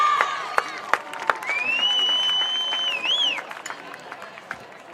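A high school football crowd at a Sonora High game cheers and shouts, with a long rising whistle and sharp claps over the steady roar of the stands.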